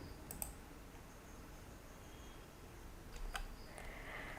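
Two crisp computer mouse clicks, one early and one later, each sharp and brief against a quiet background hiss, with no voices.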